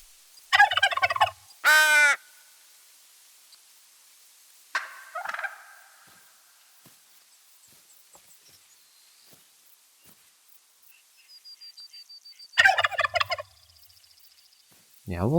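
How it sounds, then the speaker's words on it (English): Wild turkeys gobble in the hunting game theHunter: Call of the Wild, with several loud, rippling gobble bursts near the start, a softer call in the middle, and another strong gobble near the end, separated by quiet stretches. "It is just turkeys again"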